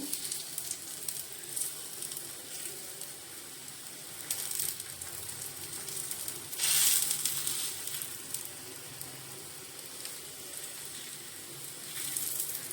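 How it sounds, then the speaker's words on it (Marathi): Steady sizzling of flour-coated eggplant slices frying in a little oil on a hot griddle over low heat, with occasional louder hissing bursts and faint scraping, no talking. "वांग्याच्या कापाचं पीठ आपण सर्व झाडून घेतलेलं आहे आपण आता तव्यामध्ये टाकूया"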